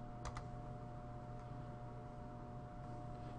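A couple of quick, faint keystrokes on a computer keyboard while entering a card name in Epic preference-card software, followed by a steady low room hum with no further typing.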